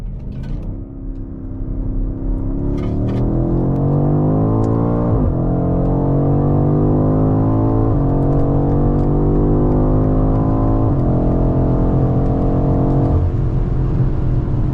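A BMW X5 M Competition SUV's 617 hp engine revs hard and climbs steadily through the gears, loud and sustained, with rising harmonic tones and brief dips at each shift.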